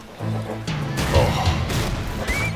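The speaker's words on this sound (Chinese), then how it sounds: "听枪声，没有重武器" Small-arms gunfire in a war film battle between Chinese guerrillas and Japanese troops, with no heavy weapons: a loud, dense run of overlapping shots and crashing bursts over a low rumble, sustained throughout.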